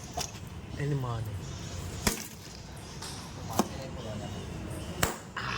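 A block of ice being broken apart by hand, giving three sharp cracking impacts spaced over a few seconds, with people talking throughout.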